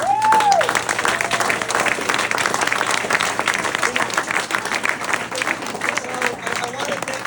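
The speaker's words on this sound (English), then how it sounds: "please give yourselves a round of applause for" Audience applause at an election victory speech, dense sustained clapping from a large crowd filling the whole stretch, with a brief whistle at the start.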